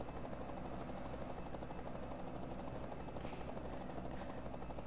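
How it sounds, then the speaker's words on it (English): A Bell helicopter at a St. Petersburg motor race gives a steady, loud rotor and turbine drone with continuous chopping, unbroken throughout, no voices over it. "It's the Bell helicopter cam."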